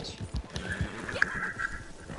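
A horse in a PS4 video game neighs with a thin, wavering whinny partway through, while low game sounds and quiet voices continue underneath.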